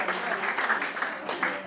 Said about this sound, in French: on peut applaudir quand même la créativité